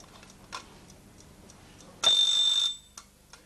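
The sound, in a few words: mechanical alarm clock ticking and ringing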